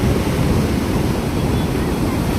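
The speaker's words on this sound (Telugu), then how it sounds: "ఇప్పుడు సముద్రం ఎక్కువ పోట్ అవుతుంది" Sea waves surge at night under a rough, loud roar of surf mixed with heavy wind buffeting the microphone, continuous and close.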